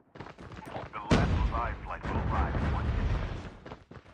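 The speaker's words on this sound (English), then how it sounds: "explosions are coming all around" Explosions and gunfire boom through a video game battle in a Zero to Hero Minors match, a sudden loud blast followed by sustained rumbling bursts, with a commentator talking over the action.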